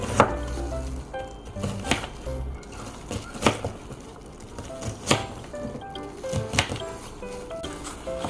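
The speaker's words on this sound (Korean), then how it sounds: "양파하고 토마토를 이렇게 잘라놨습니다" Knife chopping onion and tomato on a cutting board in a home kitchen, with sharp irregular thuds and taps spaced through the clip, close and moderately loud, with no talking.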